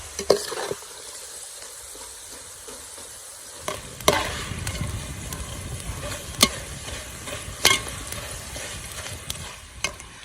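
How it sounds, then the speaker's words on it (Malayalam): Papaya fries sizzling in hot oil with curry leaves, a quiet start giving way to a steady frying hiss punctuated by sharp scraping strokes of a stirring utensil against the pan. "അപ്പോൾ ഏകദേശം നമ്മുടെ ഈ പപ്പായ ഫ്രൈ ആയി വരുന്നുണ്ട് നല്ല ഫ്രഞ്ച് ഫ്രൈസ് പോലെ തന്നെ"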